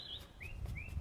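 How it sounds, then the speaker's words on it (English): Small birds chirp outdoors, with three short rising tweets spaced apart over a faint background hum, fairly quiet and somewhat distant. "you can hear the birds chirping"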